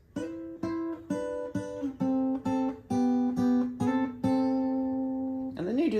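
Guitar lick from a song: a quick run of about a dozen picked notes over a repeating low pedal tone, steady and clear, ending in a brief sliding flourish, with no talk.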